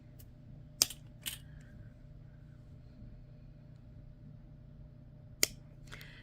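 Cutters snip through flat jewelry wire, giving two sharp close clicks a few seconds apart, each with a faint follow-up tick, over a quiet background hum.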